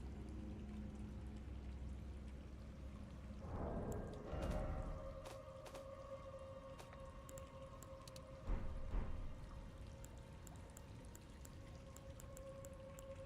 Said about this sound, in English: So there's definitely some side of water leakage happening in here.